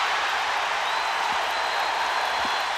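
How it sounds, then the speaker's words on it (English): A packed basketball arena crowd at Game 4 of the 1986 NBA Finals, Celtics versus Rockets in Houston, roars steadily after a blocked shot, a broad sustained wall of cheering and applause with no individual voices standing out. "So this crowd is turned on by 2 blocked shots early on by Olajuwon and Rodney McCray"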